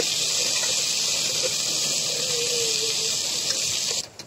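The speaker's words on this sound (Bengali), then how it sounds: "তো সয়াবিন তেলটা দিয়ে দিয়ে এখানে আমি 5 থেকে 6 মিনিট ভেজে নেবো, একটু ডলে ডলেই লাল করে ভেজে নেব আমি" Dried chepa shutki bharta frying in soybean oil in a pan gives a steady, close sizzling hiss that runs unbroken before cutting off abruptly near the end.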